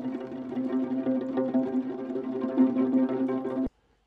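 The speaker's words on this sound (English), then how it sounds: "let's just listen to some of the viola samples that have not been turned into an instrument yet" Soft sustained viola notes from the Bunker Strings sample library hold a steady, gently swelling tone, close and quiet, before stopping abruptly into silence.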